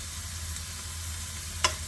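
Ginger and garlic frying in oil with golden-browned onions, a steady soft sizzle running the whole time, with one brief sharp clink near the end.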